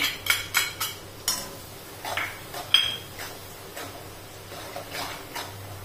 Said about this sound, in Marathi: छान असं परतून द्यायचं हे।